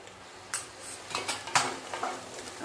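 Turmeric, salt and homemade black masala are stirred in hot oil in a pan with a metal spoon, giving a few soft scrapes and light clinks over a faint background hiss.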